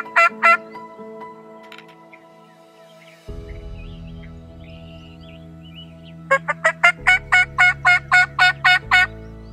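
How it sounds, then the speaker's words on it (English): Wild turkey gobblers gobble loudly in answer to calls in the woods, with a short burst at the start and a longer run of rapid repeated gobbles later, over background birdsong and steady tones. "we had three gobblers within the first 15 minutes or so answering us"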